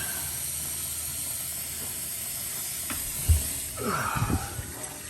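Water drains from a newly installed concrete bathroom vanity sink, a hiss rising to gurgling swirls near the end of the clip, with a brief thump partway through, close and moderate in level.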